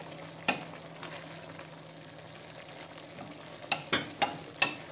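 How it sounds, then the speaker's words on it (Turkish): Green beans stir-fried in a pan, steady soft sizzling throughout with several sharp clinks and scrapes of stirring near the end, close and without speech. "Beş dakika gibi kavuralım. Şöyle bir karıştıralım."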